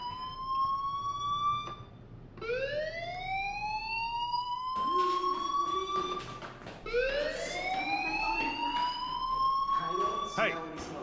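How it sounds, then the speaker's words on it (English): A fire alarm sounds in the video game Life is Strange, episode 2, with a wailing siren that sweeps upward again and again in long rising glides, with some talk in the mix. "do you hear that fire alarm?"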